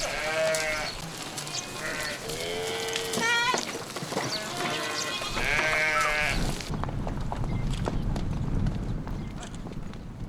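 Sheep and lambs bleat repeatedly at a livestock pasture, several wavering calls close by, mixed with hoof clatter and a voice talking among the flock.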